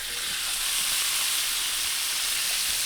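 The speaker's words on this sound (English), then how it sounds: "When you first put the chicken in, it fries really loudly." Chicken frying loudly in hot oil with fatback, a dense continuous sizzle and hiss that stays steady throughout with no talking.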